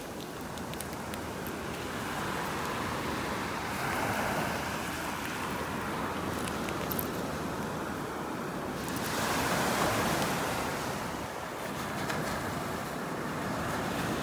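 Ocean surf rolls steadily onto a shell-strewn beach in North Naples, Florida, a continuous wash of breaking waves with swells building around the middle and end, and light wind noise on the microphone.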